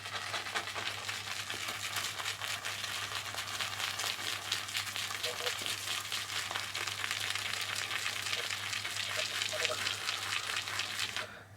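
A synthetic shaving brush swirls and taps across a puck of shaving soap, making a steady, close, crackling swish that runs continuously for several seconds, with a low constant hum underneath.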